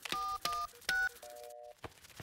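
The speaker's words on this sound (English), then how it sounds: "I'll ring for more elves. Oh, where can I get a signal on my phone?" Cartoon telephone keypad tones from a children's animated show, four distinct beeps of differing pitch, short and evenly spaced, with a brief pause before a soft thump at the end.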